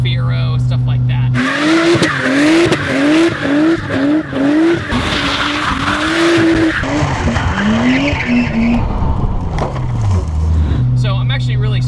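Toyota Chaser drift car with over 600 horsepower skidding, tires squealing loudly in a long wavering series while the engine rises and falls in pitch, close and intense throughout.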